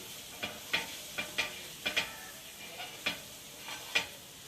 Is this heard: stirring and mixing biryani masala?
yes